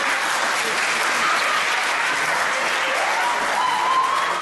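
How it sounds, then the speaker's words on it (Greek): Loud applause from a theatre audience at the close of a Christmas stage performance, a thick, continuous roar of clapping hands that stays strong and even from start to finish, with no voices over it. "Απόδειξη, το δυνατό χειροκρότημα ως το τέλος της παράστασης."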